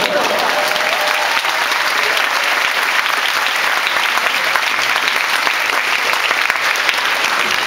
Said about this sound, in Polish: Tak, proszę Państwa, brawa dla Państwa.